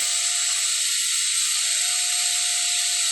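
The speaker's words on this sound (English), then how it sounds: "The magnets will scrape on the ferrite cores." A small four-pole rotovertor motor with a too-tight air gap spins down, its rotor magnets scraping on the ferrite cores in a steady high, dense rasping whine without speech.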